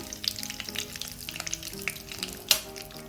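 Curry leaves dropped into hot coconut oil in a pan for a Kerala masala base, crackling and spitting continuously at close range, with a sharper pop near the end.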